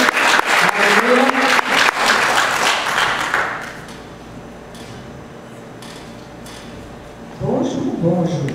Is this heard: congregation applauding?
yes